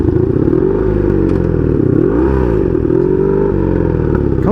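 Engine of a 1982 Honda Magna V45 VF750C motorcycle with a failing clutch, loud and close while riding, with a steady V4 drone whose pitch rises and dips as the throttle changes.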